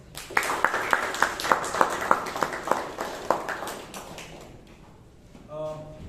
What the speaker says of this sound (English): Toastmaster Amrith a big round of applause.